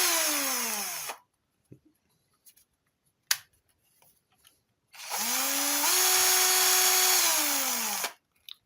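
Elprom cordless 18 V drill-driver spinning at its second speed in two bursts, each with a whine that rises and holds, separated by a quiet pause with a few small clicks.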